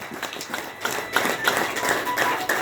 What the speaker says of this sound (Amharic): ለወንድሜ አጨብጭቡ አንዴ